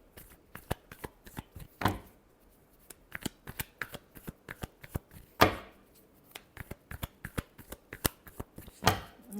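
Tarot cards shuffled by hand in quick crisp flicks and riffles, with occasional louder bridging bursts, close and clear in a quiet room.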